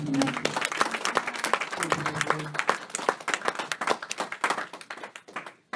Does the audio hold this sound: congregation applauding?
yes